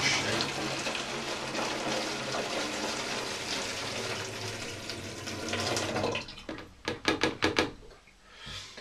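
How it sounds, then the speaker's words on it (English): Liquid is poured from one container into another to aerate mead, a loud continuous splashing gush for about six seconds, then a run of separate knocks and drips as the pour ends; close up, with no speech. "transfer this into here. And that should aerate it nicely"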